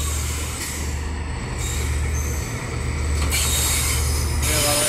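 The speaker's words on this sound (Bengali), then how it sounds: "এই ট্রেনটা যাচ্ছে, এই একটা ট্রেন আসতেছে" A train passing near Tejgaon station in Dhaka, heard from the roof of another train, as a loud continuous rumble with metallic wheel squeal that rises slightly toward the end.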